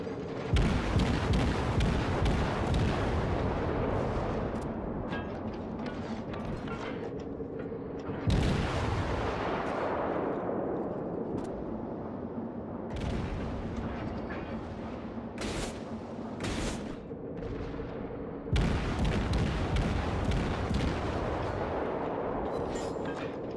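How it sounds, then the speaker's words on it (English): The Japanese cruiser Kuma's guns firing in the video game World of Warships: heavy booming salvos that arrive in several bursts, each with a long rumbling roll that decays before the next volley. "Opening fire on a wounded cruiser"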